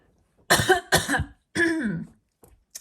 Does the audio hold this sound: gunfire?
no